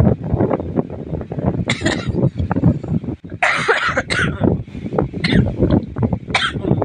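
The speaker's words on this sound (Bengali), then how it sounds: "প্রচণ্ড কাশি।" Severe coughing comes in harsh, repeated bursts, several fits in quick succession with brief gasps between them, loud and close to the microphone.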